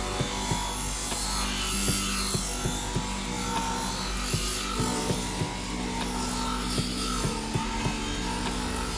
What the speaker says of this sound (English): Load up the polishing wheel with some compound and get to work polishing the bevel.